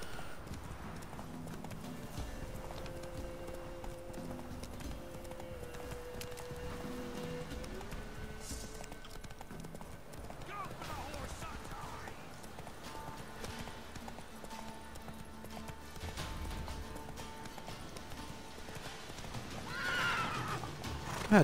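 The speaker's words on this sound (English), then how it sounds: "God damn it, Roach, come on." A horse in The Witcher 3 video game clip-clops steadily and neighs, its galloping hooves continuing under game music and ambience for the whole stretch, with a brief whinny standing out.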